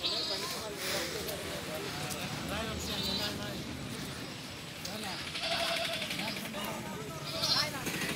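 Goats and sheep bleat now and then at a busy weekly livestock market in Kasipatnam, faint cries scattered under steady crowd chatter and people talking nearby.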